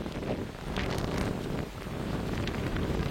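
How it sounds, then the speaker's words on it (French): Storm Benjamin lashing a park in Isère with strong gusts and rain, a dense, steady roar of wind buffeting the microphone close up, with no voices. "il y a vent et pluie"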